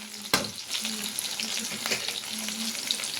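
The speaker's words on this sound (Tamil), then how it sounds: "நல்ல அப்படியே வதக்கிடலாம் நல்லா பொன்னிறமாக வதங்கட்டும்" Okra sizzles and fries steadily in a hot pan, with scraping stir strokes and a sharp knock near the start, heard close and alone without talk.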